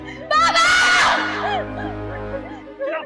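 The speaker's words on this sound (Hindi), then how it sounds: "छोरी के चीखने की आवाज भी आ रही है" A girl's high-pitched scream rises loudly and falls away amid shouting and crowd noise, with a faint second cry near the end.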